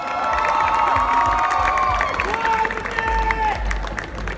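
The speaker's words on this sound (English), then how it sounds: "Round of applause for the team," A crowd at a college fashion show cheers, whoops and claps for the team, loud and close, with high shouted voices rising over continuous applause.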